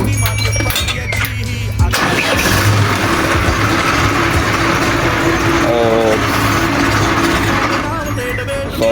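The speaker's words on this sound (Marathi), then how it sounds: "चला ट्रॅक्टर बाहेर काढू आता" A Mahindra 605 farm tractor engine starts up and settles into a loud, steady diesel running close by, with some speech and background noise mixed in at the start.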